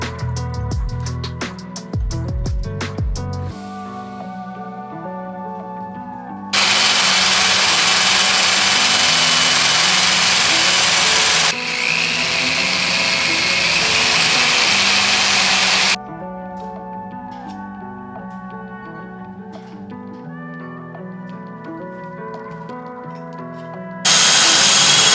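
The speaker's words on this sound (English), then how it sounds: "I initially drilled through this top piece and then realigned everything back up" A power drill bores through the top piece of a steel roof rack on an overland trailer build: a loud, steady whirring that runs continuously for about ten seconds, then cuts off and returns in a brief final burst.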